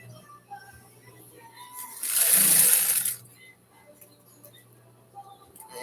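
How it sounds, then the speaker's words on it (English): A sewing machine runs in one short burst of about a second, stitching a tulle mermaid ruffle skirt, close and fairly loud against a quiet room, with faint clicks around it. "I'm gonna stitch that right quick."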